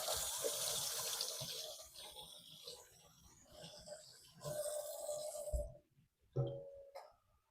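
Tap water running into a sink during handwashing, a steady splashing stream that fades, surges again and breaks off into short spurts and drips near the end.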